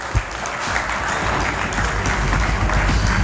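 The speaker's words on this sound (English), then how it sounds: "please give our shearers another big round of applause." An audience at the New Zealand shearing championships applauds the shearers, a full dense round of clapping that starts with a sharp clap and swells into a sustained crowd roar, loud and close.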